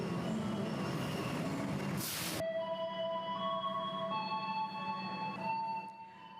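Trains at Bandung railway station in West Java, with a loud wash of rolling wheels giving way to long, sustained wheel squeals and screeches as cars pass close by, steady and unbroken throughout.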